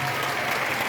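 A school crowd at a Creole culture celebration claps for Sœur Rosemilène, a brief burst of steady, dense applause from many hands, loud and even throughout with voices mixed faintly in.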